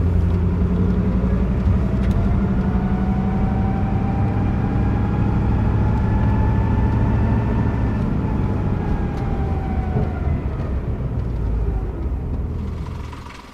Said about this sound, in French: Place à la circulation automobile.